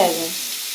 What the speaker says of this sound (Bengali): পুরানো দিনের কড়াইতে উল্টায় দেখে কি মজা লাগে